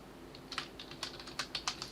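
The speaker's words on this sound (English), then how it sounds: "I was busy typing Choupo-Moting's name" Computer keyboard typing in quick irregular bursts of close, crisp keystrokes, heard alone during a live Bundesliga stream commentary.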